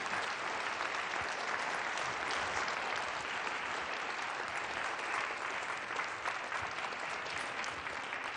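Sustained applause from a lecture audience after a talk on equality of opportunity, a dense, steady wash of many hands clapping at even loudness throughout, with no voices standing out.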